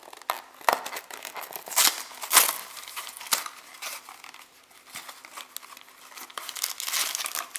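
Plastic snack packaging crinkles and crackles up close as it is handled and opened, in irregular bursts with a few sharper tearing snaps, and no talk over it.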